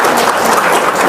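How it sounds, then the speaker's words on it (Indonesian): Audience applause at a lively gathering, a loud, dense burst of many hands clapping close by, filling the whole short stretch without pause. "Wow, tepuk tangan dong."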